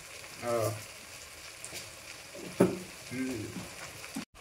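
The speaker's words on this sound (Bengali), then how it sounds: "মশলাটা কষানো হয়ে গেছে, তেল ছেড়ে দিয়েছে মশলাটা থেকে।" Spice masala sizzles softly in oil for mutton biryani, with a faint continuous frying hiss, a few stirring scrapes and brief voice-like sounds, quiet and close.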